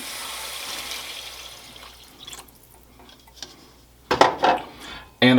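Chicken broth poured into a bubbling pan while making a chicken lasagna base, giving a low steady simmering hiss and then loud, close splashing and trickling bursts near the end.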